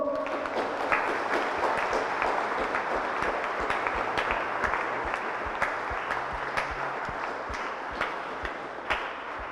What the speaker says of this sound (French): Allez, va porter le bouquet à la dame, et on va applaudir bien fort.